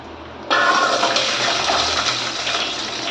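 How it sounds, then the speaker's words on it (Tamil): Garlic drops into hot oil in a pan and starts frying, with a sudden loud sizzle that breaks out and holds as a steady crackling hiss. "இப்போ எண்ணெய் சூடாயிடுச்சு சூடான உடனே சட்டி சூடாயிடுச்சா எண்ணெய் ஊற்றிட்டோமா இப்போ பூண்டு போட்டுக்கலாம்"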